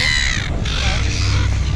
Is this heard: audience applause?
no